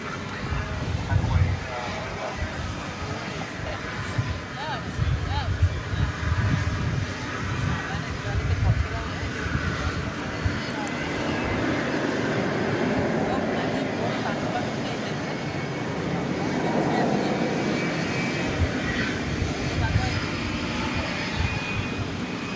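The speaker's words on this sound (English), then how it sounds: "here comes the 777 going to London Heathrow" A Boeing 777 jet airliner departing for London Heathrow produces a rising, broad engine roar that swells and holds through the middle and end, with someone talking over it.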